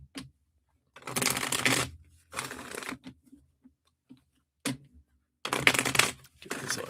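A deck of cards is shuffled in several quick riffling bursts, separated by short pauses and soft taps, sounding close and crisp with no voices.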